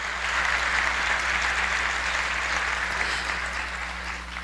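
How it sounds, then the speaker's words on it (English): Sustained applause from a large audience at a 2019 State of the Borough address for Dennis Walcott, a broad, even wash of clapping heard from a distance over a low room hum, easing slightly toward the end. "a round of applause."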